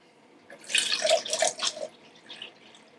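Clean water runs through the pot of a Graco Ultra QuickShot airless paint sprayer, with close splashing and dripping bursts that rise, fall and taper off.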